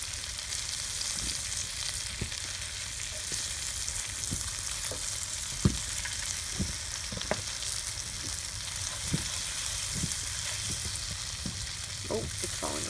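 Freshly caught fish from an ice-fishing trip on Lake Simcoe frying in a pan, a steady close sizzle with occasional pops and crackles running throughout.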